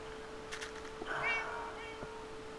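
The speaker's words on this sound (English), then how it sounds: "You are one annoying cat" A Minecraft cat meows faintly in the game, with a short plaintive call in the middle over a low steady background hum.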